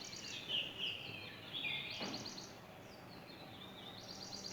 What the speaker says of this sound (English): Hear the sound of the birds.